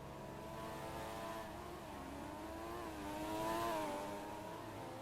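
A Formula 1 car engine on a flying lap in a racing video game wails steadily at high revs, rising and shifting in pitch as the car accelerates, heard moderately close and alone.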